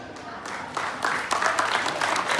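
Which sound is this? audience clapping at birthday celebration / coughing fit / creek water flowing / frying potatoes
audience clapping at birthday celebration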